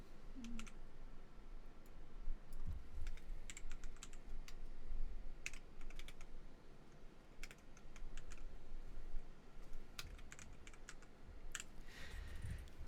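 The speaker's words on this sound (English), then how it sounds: "I was typing with one hand for the last like 15 minutes." One-handed typing on a computer keyboard: steady, quiet, close keystroke clicks in irregular bursts throughout, with short pauses and no voices.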